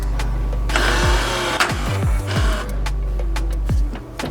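An electric 4WD transfer case actuator on a 3rd gen Toyota 4Runner whirs and clicks close by, several short motor whines and clunks over a steady low engine hum, no voices.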